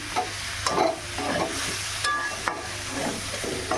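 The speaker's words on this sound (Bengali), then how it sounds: "মশলা দিয়ে যে কষিয়ে নিচ্ছি আলু আর বেগুন" Potatoes and eggplant sauté with spices in a pan, a close, continuous sizzle under repeated scraping stirs and occasional utensil clinks, with no talk.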